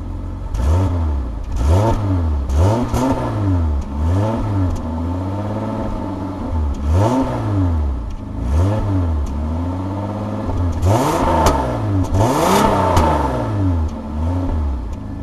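Eagle Premier car engine revving after a two-month cold start, loud repeated throttle blips that rise and fall in pitch roughly every second or two, close to the engine with no talk.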